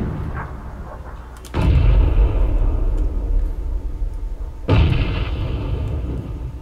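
Two heavy grenade blasts from a battle royale shooter game, each a sudden loud boom about three seconds apart followed by a long rumbling tail.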